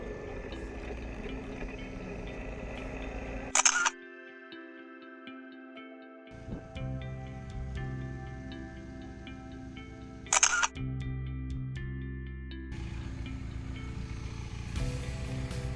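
Camera shutter clicks at a quiet roadside stop during a solo motorcycle road trip through Ontario, Michigan and Indiana: two sharp isolated snaps several seconds apart over a low steady hum.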